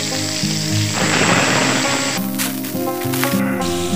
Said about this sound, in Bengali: এবার পটলগুলো ভেজে নেব।